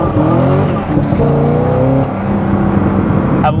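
A Corvette C6Z with an LS7 V8 revs up and drops through downshifts, loud and close, with the engine note climbing and falling in stepped pitches and a sharp blip near the end.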